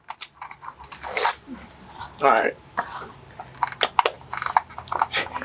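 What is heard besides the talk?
struggling to open Intel CPU plastic packaging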